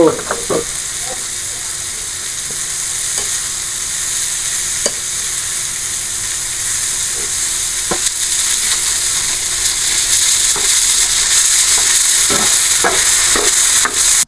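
Kalmi greens (water spinach) frying in a pan, a loud continuous sizzle with occasional stirring scrapes throughout, no talking.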